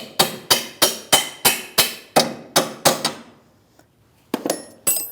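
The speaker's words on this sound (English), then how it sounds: "Take a little bit more pressure off it, and then just give it a tap." Repeated hammer taps drive a rear lower control arm of a 2016-2025 Chevrolet Malibu into place: about ten sharp, evenly spaced metallic blows, close and loud, then a short pause before two more strikes.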